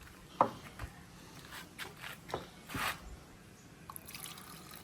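Insecticide concentrate poured from a small measuring cup into a container holding about eight liters of water, giving a few soft drips and brief trickling splashes spread across a quiet room.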